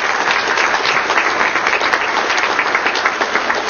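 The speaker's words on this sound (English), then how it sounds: "Give them a round of applause." An audience at a tribal council meeting applauds a recognized group, loud, dense and continuous clapping throughout, close and even, with no talk over it.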